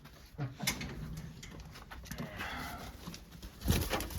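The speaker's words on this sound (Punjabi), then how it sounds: "ਕਬੂਤਰ ਬੰਦ ਕਰ ਦਈਏ ਕਬੂਤਰ ਹੀ ਬੈਠੀ ਹੈ ਥੱਲੇ" Pigeons in a coop give low, soft coos through a steady murmur of room noise, with a few brief louder rustles and a burst of movement near the end.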